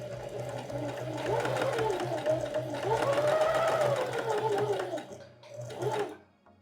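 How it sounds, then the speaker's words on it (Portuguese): A sewing machine runs a straight seam through fabric with a loud, steady mechanical whir and hum. It slows and briefly stops near the end, and a voice is faintly present underneath. "Aí você vai passar uma costura reta, mais ou menos meio pé de máquina aqui também."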